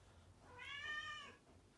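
A house cat gives one drawn-out, rising-then-falling meow, faint and slightly distant, alone against quiet room noise.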